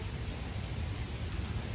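Steady rain falls outside in the Carolinas, a dense even hiss with low rumbling underneath that may be distant thunder, heard alone without talk.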